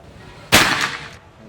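A single sharp crack from a PCP air rifle, a Predator Escobar model, fires close by, with a short bright burst that trails off quickly into quiet.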